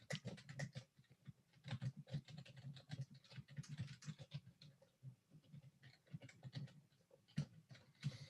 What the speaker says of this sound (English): So I can click there and I can start typing a list.